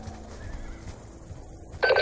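In the video game Call of Duty: Black Ops 2, a horse whinnies loudly near the end, after a stretch of low rumbling background noise with faint tonal sounds.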